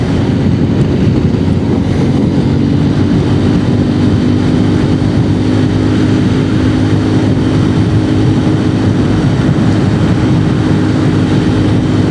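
A Royal Enfield Continental GT motorcycle cruises at speed, its engine and heavy wind rush forming a loud, unbroken roar with a steady low hum throughout.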